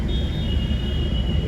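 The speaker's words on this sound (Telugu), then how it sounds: "Full traffic jam." A steady low rumble of idling and creeping engines fills the inside of a sleeper bus stuck in a night traffic jam on a road in Karnataka, with a faint thin whine running above it.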